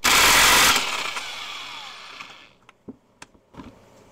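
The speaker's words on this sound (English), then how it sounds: "so we will use a electric impact" A corded electric impact wrench hammers loose a stubborn bolt on an Ironhead Harley XLCH bottom end, a loud dense burst up front that fades off, followed by a few sharp metallic clinks and knocks.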